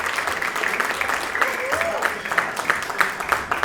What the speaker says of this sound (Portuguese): Recebamos com uma forte salva de palmas ela